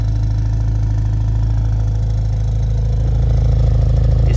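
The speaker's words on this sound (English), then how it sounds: "Can you guys hear that vibrating sound coming from those inner flaps?" Steady low rumble of an idling BMW X5M with a faint buzzing rattle from the vibrating inner exhaust flaps, close and continuous, no voices.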